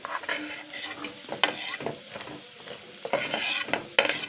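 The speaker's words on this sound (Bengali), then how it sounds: "আলুটা আমি আবারও দুই মিনিট নেড়ে চেড়ে নেব" New potatoes being stirred in a frying pan for a pepeyajkoli dish, a spoon or spatula scraping and clinking against the metal in irregular strokes over a soft sizzle. Close and moderately loud, with no talking.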